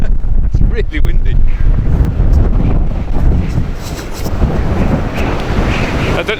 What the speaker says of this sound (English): I don't know if you can hear the wind whipping through those gates.